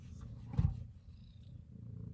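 Purring from a small cat not yet a year old: a low, steady rumble close by, with a slightly louder swell partway through and no talk.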